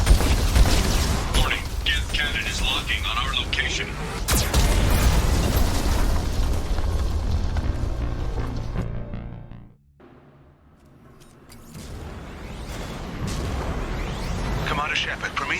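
Geth cannon fire in Mass Effect 2: heavy, rumbling booms and bursts roll on continuously, cut by a brief near-silent gap before the loud barrage resumes.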